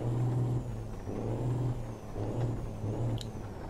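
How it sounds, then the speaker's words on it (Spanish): A truck engine idles and rumbles steadily in Euro Truck Simulator 2, a low droning hum with slight rises and dips and a faint hiss, moderately loud with no voices. "Escuchen ese motor."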